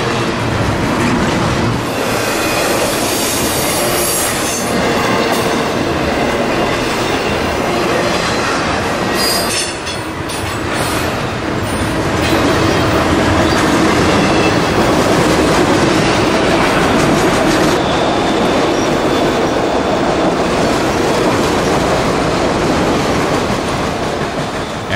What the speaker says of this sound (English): Three locomotives pulling eight spine cars carrying 53-foot FedEx trailers.